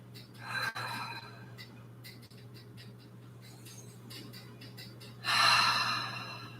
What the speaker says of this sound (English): Breathe into the stretch,